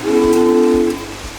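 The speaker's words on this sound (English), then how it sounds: "there is a live steam-style whistle that needs a pull" A live steam-style whistle at the Rockdale I&GN depot museum sounds one steady, loud blast for about a second, then cuts off, leaving faint rumbling behind.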